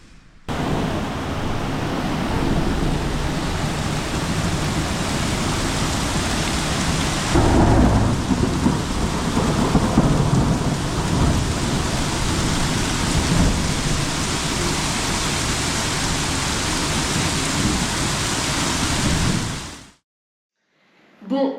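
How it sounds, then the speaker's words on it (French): Heavy rain pours steadily through a nighttime thunderstorm, a dense close roar with a deeper rumbling swell of thunder partway through, then cuts off abruptly near the end. "il y a eu un bel orage hier soir, ça a bien soufflé toute la nuit"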